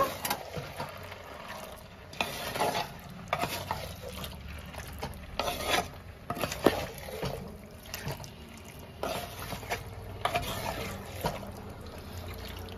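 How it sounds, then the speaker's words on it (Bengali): Mutton being stirred with spices in a handi pot, irregular scraping and clattering stirring strokes over a soft sizzle, moderately quiet. "এবার আমি একটু নাড়াচাড়া করে নেব।"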